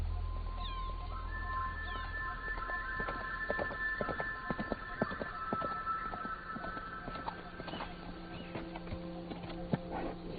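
Horse hooves clip-clop in a steady, moderately close rhythm during a film scene, with sustained musical tones playing underneath throughout.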